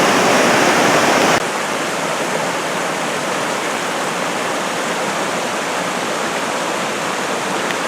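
Steady rushing water of a small creek flowing over rocks near the Ohanapecosh River at Mount Rainier, a continuous broadband roar with no voices, slightly louder during the first second.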